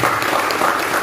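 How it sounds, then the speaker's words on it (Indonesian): Brief burst of clapping from a village gathering in Buntu, Wonosobo, dense and fairly loud, lasting about a second. "Tepuk tangan dong."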